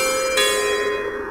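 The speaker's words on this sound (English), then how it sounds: "Wait, my cave has a doorbell?" A doorbell chime from the video game Hatoful Boyfriend rings once, a bright tonal ring with a sustained ringing decay, clear and alone.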